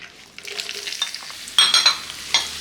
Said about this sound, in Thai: แล้วก็เริ่มผัด ประมาณครึ่งนาที ใส่หอมแขก